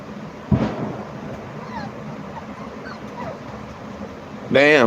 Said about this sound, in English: it sound like a shotgun blast. Probably a big old firecracker of some sort.